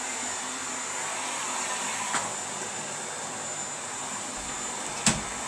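Steady broadband buzzing of a vacuum cleaner runs in the background throughout, fairly constant and moderately loud, with a couple of brief clicks near the end.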